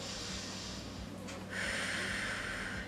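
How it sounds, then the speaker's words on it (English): Deep, steady breaths during a dynamic stretching exercise, a loud close inhale-exhale with a strong rush of air in the second half, heard alone without talk. "Nice deep breathing here."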